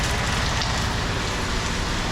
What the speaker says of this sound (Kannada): ಇಲ್ಲಂತೂ ಇನ್ನೂ ತುಂಬ ಜೋರಾಗಿ ಊಟೈತೆ ಮಳೆ